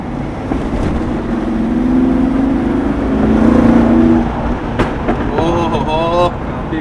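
A Mercedes G-Wagon engine revs with a loud, rising exhaust roar that swells over several seconds and then drops away, while people talk and exclaim over it.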